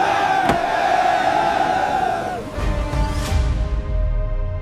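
An angry crowd shouts in a loud, sustained roar of overlapping voices that swells and surges, staged as a dramatic audio-drama sound effect.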